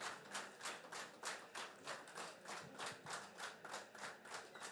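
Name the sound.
audience applause, clapping loudly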